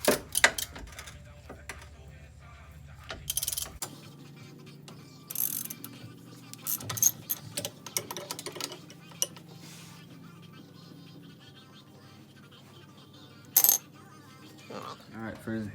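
Brembo caliper bolts being removed on a Dodge Challenger: scattered metallic clinks and ratcheting clicks in short bursts over a low hum, with sharp taps and a few brief louder clanks spread through the stretch.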